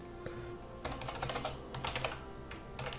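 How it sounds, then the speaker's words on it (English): Quick bursts of typing on a computer keyboard while writing code, clustered clicky keystrokes separated by short pauses, close-up and moderately quiet with no talking. "we're just going to start typing away."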